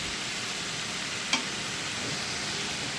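Kayta vegetable bhaji fries in a pan with little oil for breakfast, a steady soft sizzle throughout, broken by one brief sharp tap of a utensil midway.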